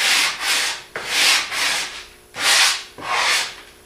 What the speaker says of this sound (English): take my sanding block, and I see my mark right there